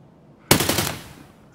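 Rapid automatic gunfire in a video game firefight around a store, one sharp loud burst of several quick shots that trails off, with no talk.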